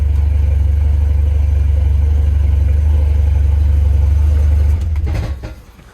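A Volvo 740 Turbo engine is held at high revs near 5,000 RPM as the turbo builds boost, a loud, steady, close drone that falls away over the last second.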